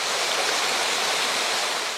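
A river near the edge of Mount Kenya forest rushes in a steady, dense wash of flowing water, close and continuous without pause, with no voices over it.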